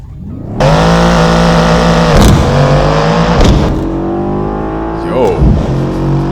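A Mercedes S63 AMG launches and accelerates hard, its engine roaring loud and close with rising revs, broken by a few sharp upshift breaks over about six seconds.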